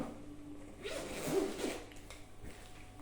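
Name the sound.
zipper of a Pokémon card binder being opened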